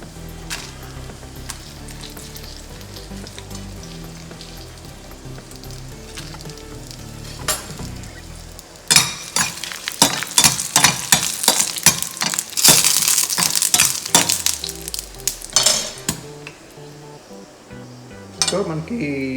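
Onion and masala frying in a pan, with a soft sizzle at first, then louder bursts of sizzling and scraping stirs in the second half, close and continuous.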